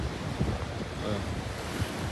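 Water rushing from four open gates of Yeldari dam, a continuous broad roar like heavy surf mixed with wind buffeting the microphone, steady and loud throughout.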